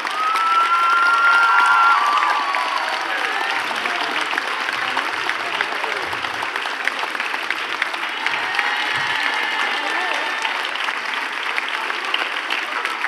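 Thunderous applause fills a hall as a lycée audience at the Goncourt des lycéens national days greets the 2024 laureate receiving her trophy, dense sustained clapping with some cheering, loud and continuous.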